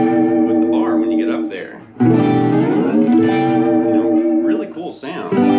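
Electric guitar strums a 1950s-style chord, slides it up an octave and strums again with the tremolo bar, giving a wavering, warbling sustain, loud and close.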